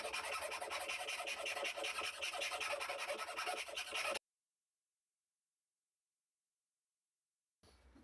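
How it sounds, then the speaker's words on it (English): A metal file rasping the sharp edges of a snapped blade, steady rhythmic strokes close and clear for about four seconds, then silence and a faint return of scraping at the end. "take out your favourite file and file all of the sharp edges from the centre and"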